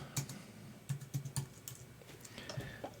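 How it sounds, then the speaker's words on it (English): Barcode text is typed on a computer keyboard in an office setting: a run of close, uneven key clicks at a steady working pace, with no talk. "just type in the barcode text"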